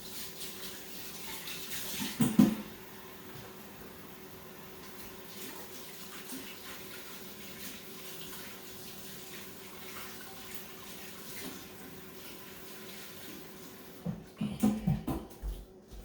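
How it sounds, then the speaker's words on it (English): A kitchen tap runs steadily for hand washing, a low, even water hiss through most of the stretch, with a couple of brief louder splashes and clatters near the start and end. "I'm going to wash my hands"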